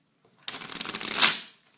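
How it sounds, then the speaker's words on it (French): Bicycle deck of playing cards riffle-shuffled once, a quick fluttering burst of cards slapping together that builds and ends in a brief bridge swish, close and clear with no talk. "j'ai ici mon jeu de cartes Bicycle and Stokes que je peux mélanger"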